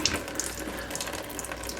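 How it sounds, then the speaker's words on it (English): Coolant drains from the radiator of a 1957 Chevy after the lower radiator hose is taken off, giving a steady, close splashing trickle that runs without a break. Nobody speaks. "drain the coolant and take the lower radiator hose off"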